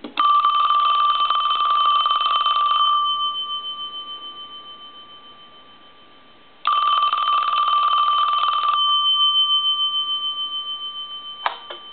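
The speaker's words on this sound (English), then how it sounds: "I'm going to go ahead and ring the telephone" An old Western Electric Princess telephone bell rings in two long bursts, each a loud metallic trill that fades out, with a short tap near the end.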